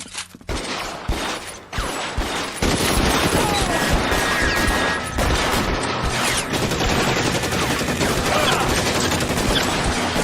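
A shootout in the video game L.A. Noire erupts in dense, sustained gunfire, with rapid overlapping shots and bursts close and loud, barely pausing for the whole stretch.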